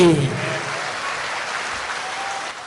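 An audience applauds loudly and evenly, dense clapping sustained the whole time with no talk on top.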